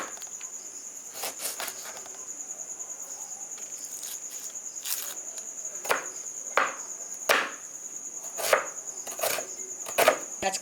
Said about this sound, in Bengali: এইবার চলেন পেঁয়াজ আর লঙ্কাটা কাইটটা নিই